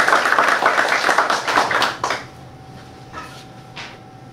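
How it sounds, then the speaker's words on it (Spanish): Audience applause at an aquascaping talk: a short burst of clapping from a small group for about two seconds, fading into a few scattered claps in a quiet room. "Un aplauso, por favor."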